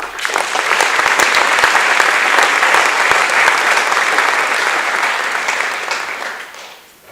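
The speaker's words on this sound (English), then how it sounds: "so let's give them a round of applause" Audience applause at a sports awards banquet, a dense, loud burst of clapping from a roomful of people that holds steady for several seconds, then tapers off at the end.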